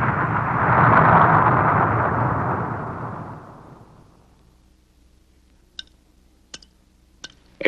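A firecracker explosion slowed down 1,200 times becomes a long, loud swelling roar that fades over several seconds into near silence, followed by a few faint sharp clicks.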